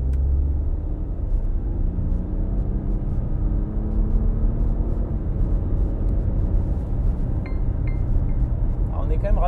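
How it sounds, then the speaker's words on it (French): A 2024 Volkswagen Touareg accelerating, giving a steady, loud low engine and road rumble from inside the cabin that builds gradually over several seconds. "Si on veut, on peut se refaire une petite accélération pour le plaisir."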